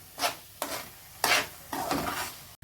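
Spices being sautéed in a pan for a jackfruit veg mutton curry: four rhythmic, scraping stirring strokes sweep through a soft sizzle, close and fairly loud, ending with a brief clatter.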